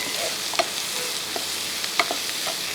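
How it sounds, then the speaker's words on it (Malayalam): Onions with salt being sautéed in a pan, a steady close sizzle of frying with light scraping and stirring clicks from a spoon. "ഈ സവോളയൊക്കെ നല്ലപോലെ ഒന്ന് വാട്ടിയെടുക്കണം"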